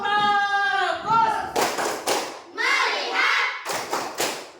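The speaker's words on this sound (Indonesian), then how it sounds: "Ya, tepuk fokus dulu. Tepuk fokus." A sixth-grade class claps a patterned focus rhythm in the classroom: sharp bursts of hand claps and thumps in a quick sequence, with children's chanted voices between and over them, close and lively.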